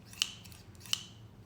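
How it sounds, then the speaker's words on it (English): Fabric scissors snip twice through fabric, two crisp close cuts about three quarters of a second apart over quiet background. "I also have really nice like fabric scissors"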